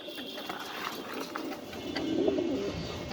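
Pigeons at a pigeon farm in Mirpur 13 give soft, throaty coos over a low background hum, with a clearer coo rising near the end.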